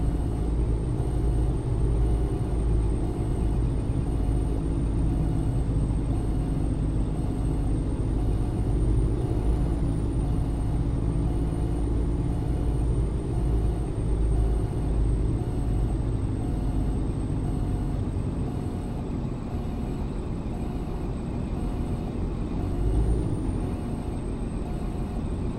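A Freightliner Condor truck in American Truck Simulator hauls a 65-ton load, its engine giving a steady low rumble with a faint high whine throughout, holding an even level for the whole stretch.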